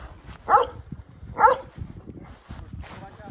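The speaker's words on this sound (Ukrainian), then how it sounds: "Покажу вам ще песика цього." A shaggy dog standing on a raised platform above muddy ground at a farm with horses gives two short barks about a second apart, fairly close, over outdoor background noise with a faint third sound near the end.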